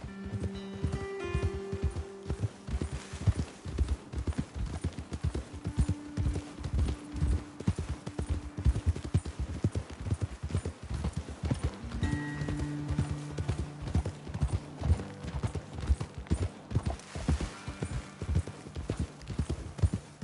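Steady clip-clop of horse hooves walking at a relaxed, even pace, close by, with a low rumble underneath, in the video game Red Dead Redemption 2.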